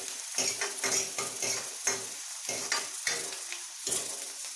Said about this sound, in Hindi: तो यहाँ पर प्याज को डालकर हमें प्याज को भी अच्छे से भून लेना है।